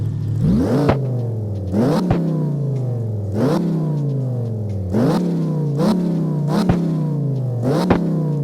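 Car engine in CarX Drift Racing revving hard and loud, rising in pitch again and again with sharp drops at each gear shift, about eight repeated climbs, no talk over it.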